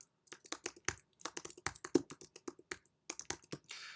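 Quick, irregular bursts of clicking keystrokes on a computer keyboard, close and crisp, clustered in short runs with brief pauses, ending in a softer shuffling rustle.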